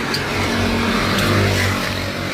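A petrol car with a dual-outlet aftermarket exhaust revs, giving a loud, raspy engine roar that swells slightly and holds steady at close range.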